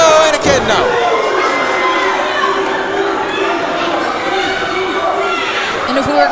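A wrestling crowd in an arena cheers and shouts loudly and continuously during a match, with children's yells mixed in and a broad roar that holds throughout.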